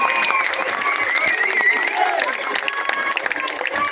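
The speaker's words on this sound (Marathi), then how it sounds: "जोरदार टाळ्या" A large crowd at a Dahi Handi festival celebration by a blind Govinda troupe breaks into steady, dense applause, with clapping and scattered cheering voices blending into a continuous loud roar.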